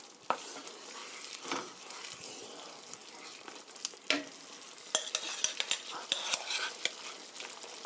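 Penne pasta being stirred through tomato sauce and cheese in a pan, a soft sizzle running underneath while a utensil makes scraping strokes and small clinks against the pan, fairly quiet and close up.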